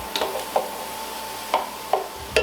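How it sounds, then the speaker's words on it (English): Chopped onion and broccoli stalks sautéing in a pan, a soft steady sizzle broken by four or five sharp utensil scrapes and taps, no one talking. "we're going to go ahead and saute the onion and the stalks just until they get a little bit translucent"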